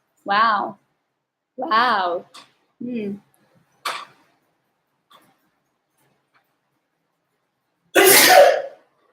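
A couple of sharp sneezes with breathy follow-up sounds, separated by short silences, then a louder burst near the end.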